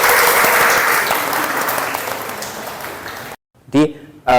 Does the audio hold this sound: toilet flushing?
no